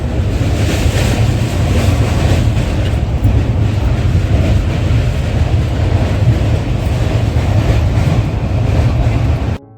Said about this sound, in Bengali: লখনৌ স্টেশন ছেড়ে আমাদের ট্রেন এবার যখন বেরাইলি স্টেশন দিকে ছুটলো